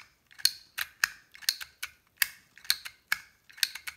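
Keys pressed one after another on an Action label maker, a series of sharp plastic clicks and clacks in an uneven rhythm, close and clear with no talk.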